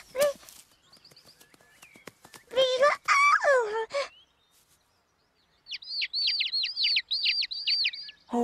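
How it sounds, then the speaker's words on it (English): Cartoon mother bird and baby birds chirping, with high tweets from the chicks in quick repeated bursts and some louder animated calls earlier, close and clear, alongside faint other cartoon sounds. "You want to help this mother bird feed her babies."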